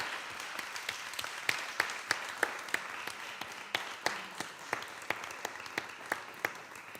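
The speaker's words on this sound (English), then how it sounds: "give a big round of applause to our panelists" Audience applause for the panelists at a roundtable discussion on Europe's strategic autonomy, a fairly sparse, steady patter of individual claps with sharper hand strikes standing out, sustained evenly throughout.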